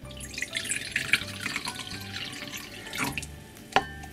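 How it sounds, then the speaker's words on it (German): Still mineral water splashes and trickles as it is poured into a nutrient solution, with uneven gurgling, small drips and a few sharp clinks nearby. "Dazu geben wir dann 150 Milliliter stilles Mineralwasser."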